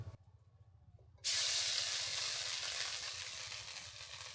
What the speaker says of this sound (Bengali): এই মাছ ভাজা তেলের মধ্যে দিয়ে দেব বাটা মশলাগুলো প্রথমে দিয়ে দেব পেঁয়াজ বাটা